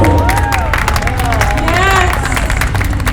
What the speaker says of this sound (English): Let's do it again for another round of applause for those delectable numbers.